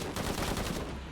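Gunfire in the Shadow of the Tomb Raider video game, a dense burst of rapid shots packed together over about a second, loud and steady throughout.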